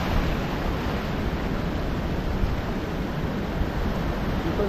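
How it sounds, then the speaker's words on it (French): Rough, stormy sea surf crashes continuously on the shore, a dense, loud roar of breaking waves mixed with wind buffeting the microphone, and no voices. "La mer est déchaînée."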